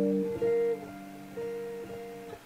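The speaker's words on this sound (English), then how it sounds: "So the sound's very thin, doesn't sound great." Thin, dry electric guitar recorded direct into an audio interface with no amp or cab simulation, playing a few sustained notes alone at moderate to low level.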